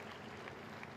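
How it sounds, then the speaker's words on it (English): Crowd applause for a third-place Ducati rider on the podium at an Asia Road Racing Championship round in Malaysia, a steady distant wash of clapping at low level. "good applause for Hafiz"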